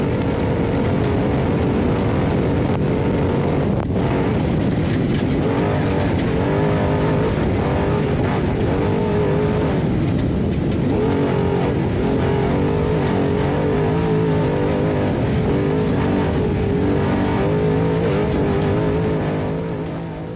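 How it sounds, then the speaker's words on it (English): Race boat engine running wide open during the Parker Dam 500, a loud, steady high-revving roar that holds continuously throughout with slight pitch wavering. "listen to that motor sing. Yeah, he's wide open. Let's take a second here and listen to this engine."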